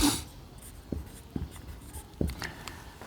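Chalk or pen taps and scratches while a math formula is written on a board during a class ten lesson, a few sharp strokes spaced apart in a quiet room.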